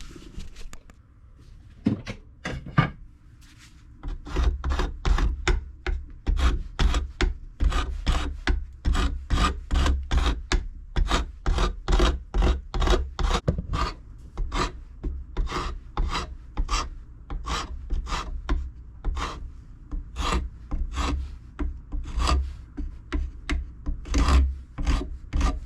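A spokeshave shapes a wooden hammer handle in a fast, steady rhythm of rasping strokes, each shaving pass a close, loud scrape repeated dozens of times after a few slower starting strokes.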